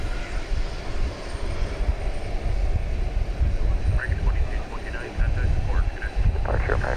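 An arriving flight from Hong Kong at Dallas Fort Worth airport gives a steady, moderate aircraft rumble with low engine hum, while faint voices come through near the end.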